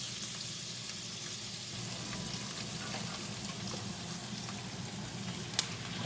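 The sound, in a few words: onions sizzling in a frying pan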